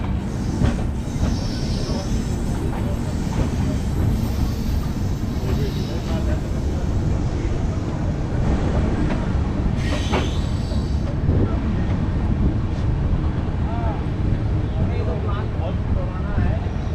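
An EMU local train runs past on the Indian rail line between New Delhi and Patna, a loud continuous rumble with wheel screech and rattling cars throughout, while voices talk nearby.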